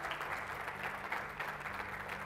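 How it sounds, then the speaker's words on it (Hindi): Applause honoring Prime Minister Modi at a televised gathering, a soft, distant, continuous patter of many hands clapping, faint and steady throughout with a low hum beneath. "मैं चाहता हूं एक बार मोदी जी के सम्मान में तालियां बजा दी जाए।"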